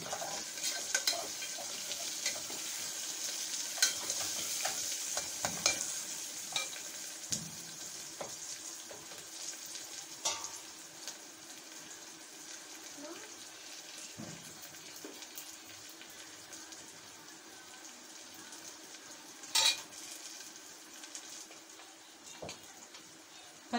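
Chopped green chillies and other ingredients for Hyderabadi bagara rice fry in a pan with a soft, steady sizzle, broken by intermittent stirring scrapes and clinks, one sharper knock near the end.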